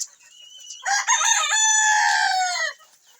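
A native village rooster crows loudly and close by, one long drawn-out call with a few clucks leading into it, and no other sounds.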